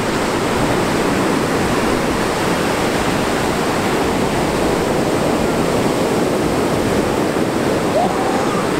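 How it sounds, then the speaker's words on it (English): A big ocean wave crashes and surf roars in a loud, continuous wash of noise lasting several seconds, with no talk heard over it. "Right now, that big wave."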